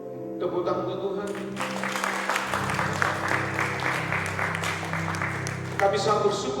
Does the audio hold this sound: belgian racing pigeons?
no